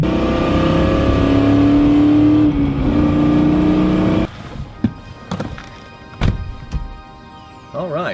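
A car does a burnout, its engine roaring loud and steady with rising and falling revs for about four seconds before cutting off, then a few sharp thumps and knocks with voices talking.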